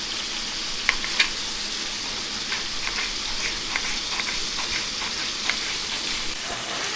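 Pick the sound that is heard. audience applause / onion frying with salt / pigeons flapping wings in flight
onion frying with salt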